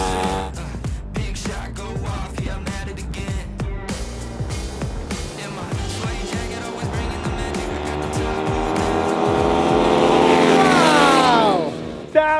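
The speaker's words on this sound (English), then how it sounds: "We have the KLX 110 versus the homemade 110 swap versus the NOS. This is actually going to be an insane race." Two or more small dirt bikes race, a stock Kawasaki KLX 110 against a homemade 110 engine swap bike, their engines revving and rising in pitch under continuous loud buzzing, building to a sustained high whine near the end.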